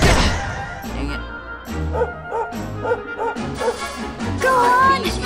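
Dog yips and barks repeatedly in Dragon Quest XI, close and fairly loud, in short excited bursts mixed with game music and effects, with someone talking at times.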